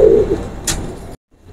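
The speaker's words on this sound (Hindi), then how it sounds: "ये नर है, डब वाला मकर कबूतर है।" A male Dab-wala pigeon coos close by, one low rolling coo, followed by a brief sharp rustle and then silence.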